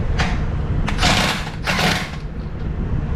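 A wrench backing off a bolt on a flat tow bar mount for a 2024 Jeep Wrangler, giving a few short ratcheting, rasping bursts close by over steady low background hum.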